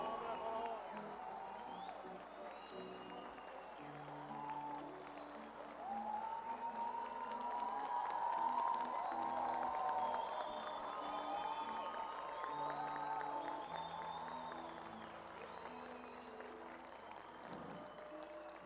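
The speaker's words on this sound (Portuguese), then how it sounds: "Pode aplaudir mesmo, povo santo." An audience at a Passion of Christ play claps steadily for a long stretch, with the applause under someone speaking over a loudspeaker.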